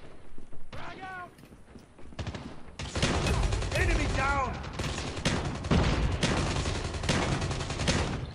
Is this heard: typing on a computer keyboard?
no